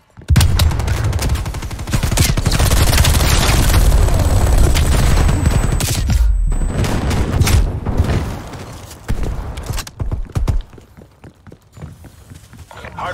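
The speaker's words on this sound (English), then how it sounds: "Stun grenade out." A stun grenade blast and heavy gunfire in Call of Duty: Cold War on the Satellite map during a Hardpoint match. Dense, loud, continuous shooting and explosions fill most of the stretch before thinning to scattered shots, with voices mixed in.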